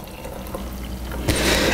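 Homemade sweet potato milk poured into a container, a short close liquid splashing that swells louder toward the end.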